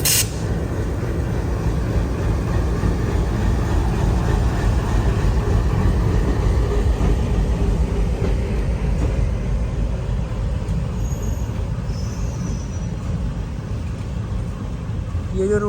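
A train pulling into Manamadurai Junction station gives a continuous loud rumble and rattle of wheels and carriages, steady throughout with no voices.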